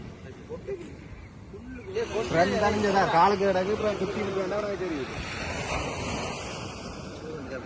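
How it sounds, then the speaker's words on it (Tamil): Surf rolls and washes steadily at Kudathanai beach in Jaffna, a broad continuous roar with wind buffeting the microphone, while people talk loudly over it. "இதுதான் கடல்"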